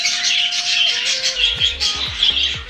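African lovebirds give a run of shrill, rasping squawks and chirps, close and fairly loud, repeated in quick bursts over a faint low background thump, with no voices.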